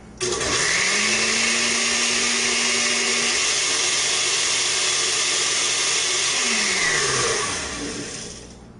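A blender running without its lid, making carrot juice with spirulina, spins up with a rising whir, runs loud and steady for several seconds, then winds down as the motor slows and stops.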